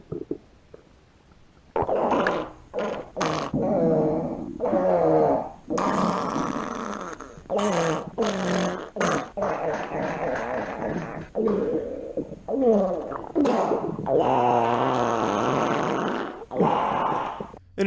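A voice performs imitation diarrhea fart noises over walkie-talkies: a long series of wet, sputtering, rumbling bursts in irregular rhythm, close and loud, with radio-style band-limited tone and brief squelch-like breaks.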